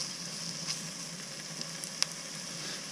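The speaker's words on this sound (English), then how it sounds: "onions. I'm just going to fry them off." Onions sizzle in oil in a lidded cast iron pan aboard a narrowboat, making a soft, steady crackle with a few sharp pops and no one talking.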